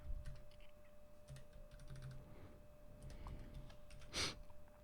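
Keys on a computer keyboard click softly for a few seconds as Control C and Control V shortcuts are pressed, followed by one sharper, louder tap near the end.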